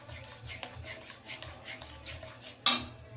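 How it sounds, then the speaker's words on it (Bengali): Chhana (fresh cottage cheese) being stirred with sugar in a pan for kalakand sweets, with soft repeated scraping and rubbing of a spoon, close and quiet, and one sharper knock against the pan near the end. "ছানাটা দিয়ে দিলাম, চিনিটা দিচ্ছি একটু, এটাকে মিশিয়ে নিতে হবে।"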